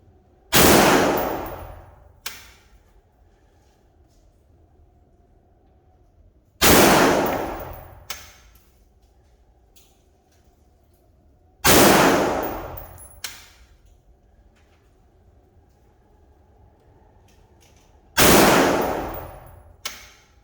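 Springfield Armory ATC Saint rifle firing four loud, sharp shots spaced several seconds apart, each followed by a short echoing tail and a fainter secondary report, with quiet outdoor background between.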